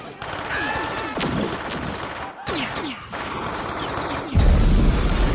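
Gunfire effects from the 1984 film The Terminator, a burst of sharp, loud shots with crashing impacts and whooshes, dense and continuous across the span, then a heavier low blast near the end.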